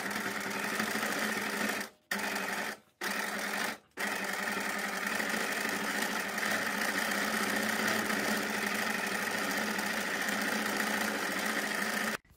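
A sewing machine runs in long, steady bursts during free-motion quilting on hydro-dipped fabric, a close, even mechanical whir with a rapid needle rhythm, stopping briefly three times before carrying on.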